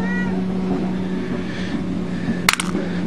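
A cat gives a short meow near the start, then a brief sharp clatter later, over steady low background hum.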